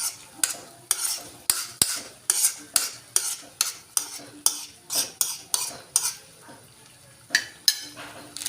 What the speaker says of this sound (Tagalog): Tapos halu-haluin na lang natin yung breakfast meal natin.